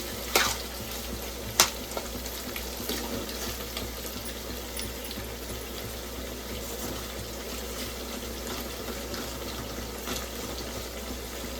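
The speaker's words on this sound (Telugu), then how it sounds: "కొంచెం టమాటా ఆనియన్స్లో ఫ్రై చేసుకోవాలి" Prawns fry with tomato and onions in a pan for a gongura prawn curry, a continuous close sizzle with a few sharp clicks near the start and no talking.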